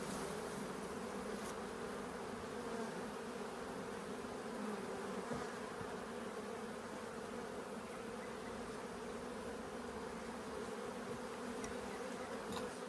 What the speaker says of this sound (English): this box is full of bees